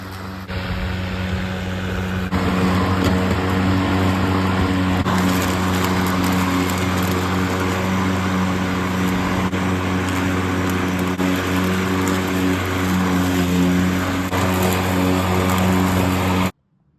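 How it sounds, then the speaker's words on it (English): A lawn mower cuts grass and oilseed radish on reworked bare ground, its engine droning loud, close and steady for the whole stretch with no talk. "Seems to be mowing nicely."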